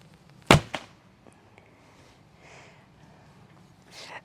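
One arrow leaves a Korean traditional sport bow with a sharp, close snap and a quick second knock right after it, followed by quiet outdoor ambience and a faint rustle near the end.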